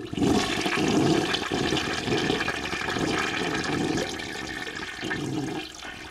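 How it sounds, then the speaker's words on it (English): Toilet flushing forms a music track: a loud, continuous rushing swirl of water running through the whole stretch, with no voices. "it's all toilet sounds"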